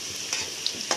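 Potatoes fry in a pan with a steady, close sizzle and a few sharp pops and crackles as oil spits.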